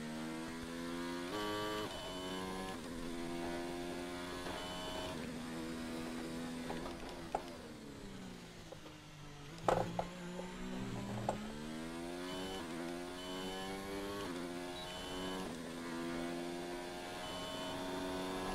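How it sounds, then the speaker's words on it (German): Simulated Formula 1 race car in the F1 2019 video game at Bahrain, its engine whine sustained and loud throughout, with pitch dropping and rising through gear shifts and a few brief clicks near the middle. "Und da muss ich gerade komplett runter nochmal einen Gang runterschalten"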